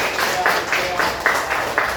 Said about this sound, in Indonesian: Tepuk tangan buat Iris.